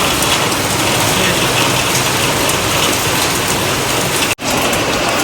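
Heavy rain pours down on surfaces at Chandbibi Mahal in Nagar city. The roar is dense, loud and continuous, with one momentary dropout near the end.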